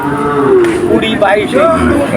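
Sahiwal cattle at a livestock market give loud, close, drawn-out moos, one overlapping the next, over a murmuring crowd background.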